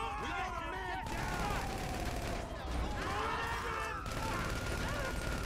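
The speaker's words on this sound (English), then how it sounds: "I swear, I shot this car like a billion times." Dense gunfire in Grand Theft Auto Online as shots pour into a car, rapid bursts crackling continuously under game noise and overlapping voices.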